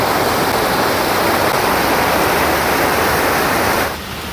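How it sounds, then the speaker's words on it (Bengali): A stream in Purulia pours past, a dense continuous rush of flowing water close by that drops off to a softer wash near the end. "এখান থেকে জলটা বয়ে আসছে"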